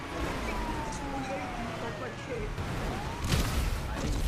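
An ambulance siren wails in a GTA video game race, its pitch sweeping up and down beneath the engine roar and crash noises of cars.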